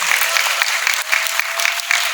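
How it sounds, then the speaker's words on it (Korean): Audience applause fills a film screening and Q&A session for '내 손끝에 너의 온도가 닿을때' in Yongsan, a dense, steady clapping from a seated crowd that carries on evenly throughout with no voices over it. "박수 부탁드릴게요."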